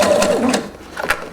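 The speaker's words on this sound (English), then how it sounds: "I'm following with my presser foot the previous row of stitches" A sewing machine stitching shirring rows with elastic thread through fabric, short close bursts of rapid mechanical whirring and clatter that start and stop within a second or so.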